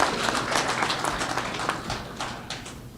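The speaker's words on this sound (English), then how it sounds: "I think you should give yourself a round of applause for that." An audience at a diaspora town hall meeting in Montreal breaks into applause, a lively, uneven patter of many hands at moderate distance that gradually thins toward the end.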